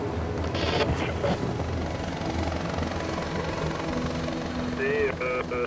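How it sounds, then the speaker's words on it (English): A navy helicopter's steady rotor drone fills the clip during a winching exercise in France, loud and continuous, with faint radio-like tones near the end. "The Navy is sending a helicopter on a live-action exercise."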